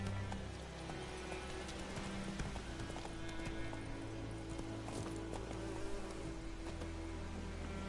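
A horse gallops in The Witcher 3, its hooves drumming in a fast, steady clip-clop over a constant game soundscape with a low hum underneath.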